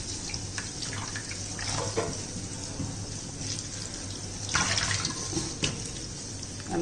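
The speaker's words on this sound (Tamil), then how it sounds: "இப்போ இந்த முருங்கைக்கீரையை நம்ம கழுவிக்கிடுவோம்" Moringa (drumstick) leaves being rinsed in water, with a steady run of splashing and trickling close by and brief louder sloshes, no talking.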